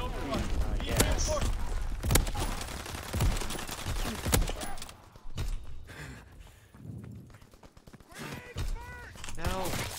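Gunfire from a first-person shooter, including shotgun blasts, bursts out in dense repeated volleys with heavy thuds and scattered footsteps, loud and close, while a player talks over the action.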